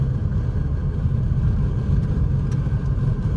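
A car's engine rumbles low and steady during a first-day driving lesson, a continuous mid-level drone with slight swells as the pedal is pressed, heard from inside the cabin with a couple of faint ticks.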